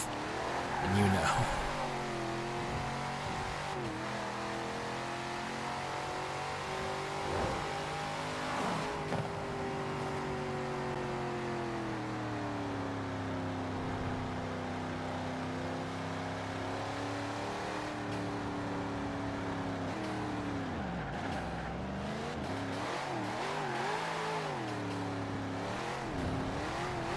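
A car engine in the racing video game Forza Horizon 4 drones steadily at high revs for the whole stretch, its pitch swooping up and down as it accelerates and eases off, at moderate level with faint background noise.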